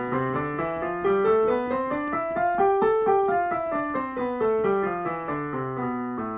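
A piano plays a scale over two octaves, climbing note by note and then descending in a steady, fairly quick run, clear and close with no talking.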